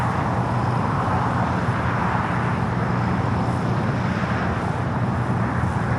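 A Japan Airlines Boeing 787 Dreamliner at LAX gives off a steady, fairly loud jet roar that holds even throughout, heard alone from a distance on the airfield.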